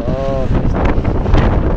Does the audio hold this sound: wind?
yes